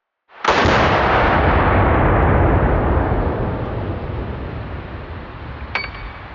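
Typhoon F12 semi-automatic 12 gauge shotgun fires a single blast at an exploding Firebird target, a loud boom whose roar rolls on and slowly fades outdoors, with a faint metallic clink near the end.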